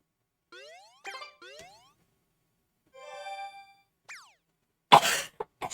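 One short, sharp cough close to the microphone, preceded by game sound effects: springy boing tones and a rising chime from Super Mario Sunshine, with quiet gaps between them.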